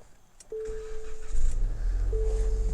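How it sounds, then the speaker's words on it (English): A 2025 Nissan Rogue Platinum is started with its push button: a steady chime tone sounds, then the engine catches with a low rumble that settles into a smooth idle, with a second chime near the end. "The first thing I'm gonna do is start the Rogue"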